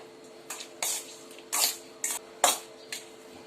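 Fish being mixed by hand with salt, turmeric, red chili powder and homemade masala in a bowl, giving several short wet squishing and clinking bursts at an uneven pace, close and fairly quiet.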